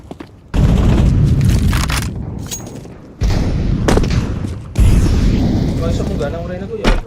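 A thrown incendiary grenade in a video game produces loud, sustained roaring bursts of fire noise in three successive surges, with a voice talking underneath.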